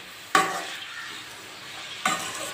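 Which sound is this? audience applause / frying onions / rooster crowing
frying onions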